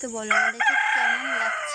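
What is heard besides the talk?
rooster crowing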